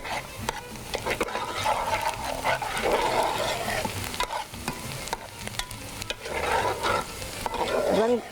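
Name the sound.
onions frying and being stirred in a pan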